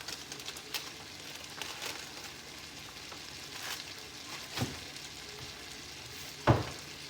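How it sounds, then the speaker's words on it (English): Green beans with red pepper flakes fry in a pan with a steady, quiet sizzle, broken now and then by brief louder pops and crackles, and no talking. "And I just let these kind of fry up."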